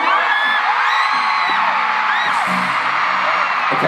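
A large concert crowd in Kansas City roars without a break, whooping, screaming and whistling loudly from start to finish.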